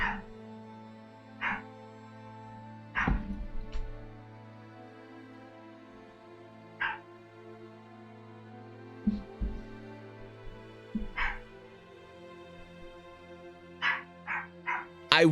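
A pet dog barks indoors in scattered single woofs and short clusters, spaced several seconds apart, with a faint steady hum in the background and no speech during the barking.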